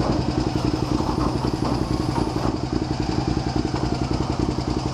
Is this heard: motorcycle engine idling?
yes